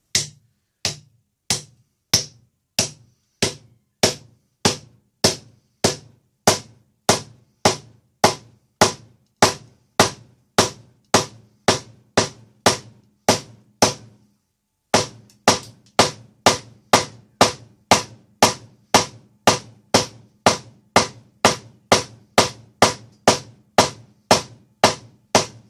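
Steady hammer blows drive a shim into the eye of a felling axe head, about fifty sharp, evenly spaced strikes close up with a brief pause midway.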